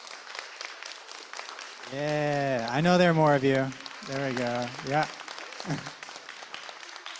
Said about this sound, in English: Let's get some claps going for them.